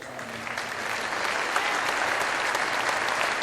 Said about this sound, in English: As the crowd gives a nice round of applause for Tom Rehm